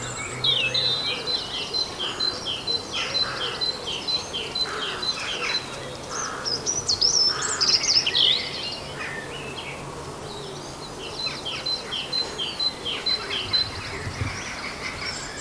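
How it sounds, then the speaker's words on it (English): A lively early spring morning chorus of many birds singing outdoors, steady and continuous, with bright chirps and a few crow-like caws over a constant background of calls. "the birds giving it rock all in the morning"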